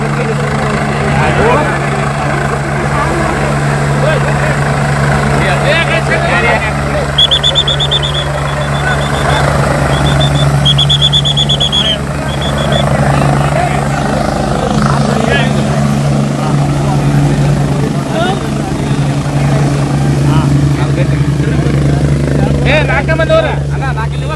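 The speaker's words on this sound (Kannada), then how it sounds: "ಅವರ ಹೆಲಿಕಾಪ್ಟರ್ ಈಗ ಲ್ಯಾಂಡಿಂಗ್ ಆಗ್ತಾ ಇದೆ." A helicopter lands at a village during a hotel inauguration crowd event, its loud continuous rotor drone steady throughout, with beeping tones and a crowd talking and shouting nearby.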